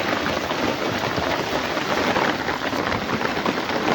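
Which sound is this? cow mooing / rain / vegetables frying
rain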